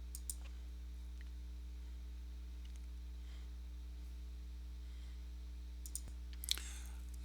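A computer mouse gives a few faint, sparse clicks during a cloud server deployment demo, set against a steady electrical hum.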